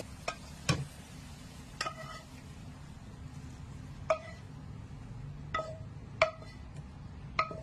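Red ant eggs frying with egg in a pan, a low steady sizzle broken by several sharp metallic clinks of a utensil against the pan, close by and with no talk.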